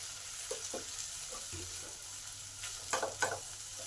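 Potatoes frying in a pan: a quiet, even sizzle with soft scraping and a few light clinks of stirring, strongest toward the end.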